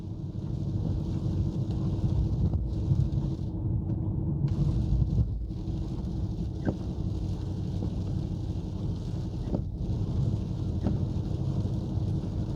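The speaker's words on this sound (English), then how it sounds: "Wow, the rain kicked back in." Heavy rain pours steadily over a deep rumble, with a few faint taps and knocks. No one speaks.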